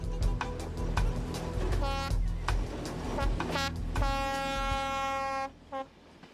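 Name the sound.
Reunification Express train travelling in Vietnam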